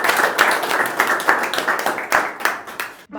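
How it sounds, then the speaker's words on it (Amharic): A church congregation claps for the Lord in a steady run of loud, rhythmic hand claps that fills the room, with some voices mixed in before the clapping stops abruptly. "አጨብጭቡ ለጌታ።"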